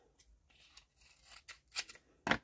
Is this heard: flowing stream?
no